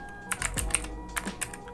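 Computer keyboard typing in Android Studio, a brief burst of close, quiet key clicks in quick irregular succession, with no talk.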